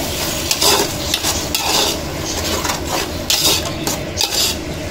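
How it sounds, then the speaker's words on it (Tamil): Spoon scraping and stirring yogurt into quail biryani in a cooking pot, a steady close wet churning with repeated scrapes against the metal, no voices. "தயிர் சேர்த்து நல்லா கிண்டி வச்சுருங்க"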